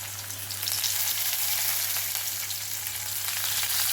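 Onion and curry leaves fry with cumin seeds in hot oil, giving a continuous, even sizzle up close with a low steady hum underneath and no voices.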